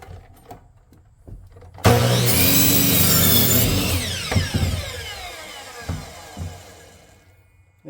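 A power saw cuts the end off an old veneered plywood pressed board. A harsh, loud whine bursts in after a quiet start, holds for about two seconds, then falls away, leaving a few light knocks and clatters.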